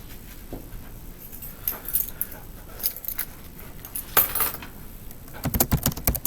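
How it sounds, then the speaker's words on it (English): A set of keys and a crumpled piece of paper are dropped together onto the floor, giving a bright metallic jangle and clatter on impact, close and fairly loud. "if I drop my keys and the piece of paper at the same time, they hit the ground at the same time"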